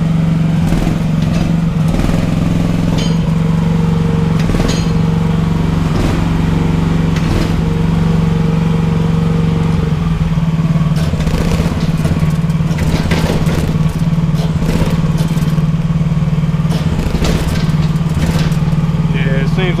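A small AGT L12R mini excavator engine runs at a steady idle with a continuous low hum and a faint mechanical rattle, near and loud, as people speak over it.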